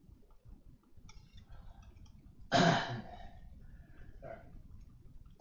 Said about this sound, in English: Husband's apologizing for coughing.